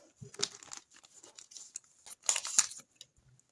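Paper surprise packet of Hello Kitty plasters being torn open, with short rustling crinkles and tearing bursts, the loudest cluster near the end, close and alone with no talking.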